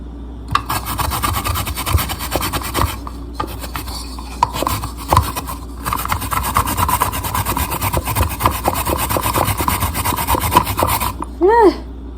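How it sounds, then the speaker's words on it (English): Daikon radish rubbed against a Japanese grater while preparing hot pot, a steady close rasping scrape in continuous strokes that runs without pause for about eleven seconds. "Grate the radish."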